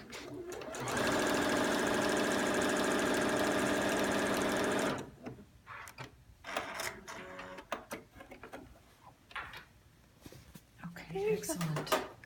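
Sewing machine stitching quilt binding in a fast, steady run of about four seconds, then stopping, followed by scattered handling clicks and clatter with some speech nearby.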